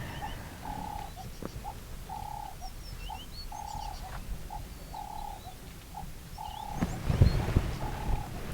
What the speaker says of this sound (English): There's another beautiful bird singing from our left.